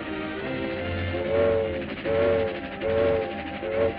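A cartoon trolley rattles along its rails, a continuous chugging rumble broken by repeated short whistle-like toots, fairly loud and close, with no speech.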